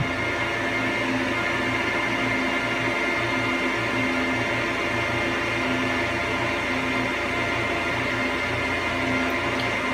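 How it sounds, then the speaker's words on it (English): A 2006 Apple Xserve 1,1 server booting up, its fans running as a steady, loud whir with a faint periodic hum pulsing through it, continuous and unchanging throughout, with no voices. "as you can see the machine is now booting up"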